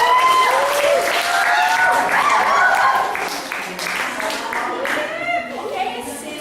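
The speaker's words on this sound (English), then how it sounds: "Please give applause." Audience applause at a seminar, dense clapping from a room full of people that stays steady for about three seconds, then thins and trails off with scattered claps and some murmuring voices mixed in.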